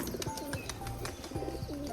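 Pigeons in a cage coo in repeated low, throaty bursts, close and steady, with a faint bird chirp mixed in.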